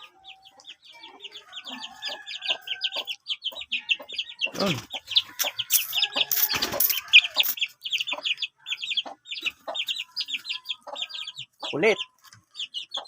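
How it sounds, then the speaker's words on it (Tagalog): A backyard hen with two chicks clucks in quick, repeated bursts, joined by other chickens nearby, while someone speaks briefly now and then. "Yan natin dito yung isang inahin na may inakay na dalawa."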